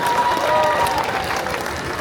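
Applause and crowd noise at an outdoor Lithuanian State Day celebration in Klaipėda's theatre square, a dense, steady clapping wash that holds for two seconds and eases slightly toward the end.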